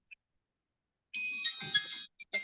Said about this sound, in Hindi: बेटा मेरा फोन आ रहा